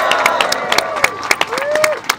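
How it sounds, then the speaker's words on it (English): Audience applause at a 2016 Add the Words rally in Idaho, a loud crowd clapping with distinct close hand claps, light cheering and a whistle sliding through it. "Give them a huge round of applause"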